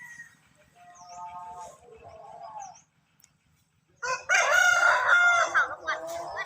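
Fighting roosters crowing and clucking loudly, with squawking calls breaking out after a short quiet pause.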